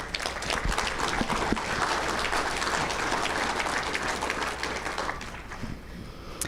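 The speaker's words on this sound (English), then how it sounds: "Give yourselves a round of applause." A banquet audience at an awards ceremony claps in a steady round of applause, moderately loud and sustained throughout, with scattered sharper claps near the end.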